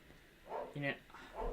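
Dogs bark in a few separate bursts a short way off, one louder mid-clip yelp among them, with no speech in between.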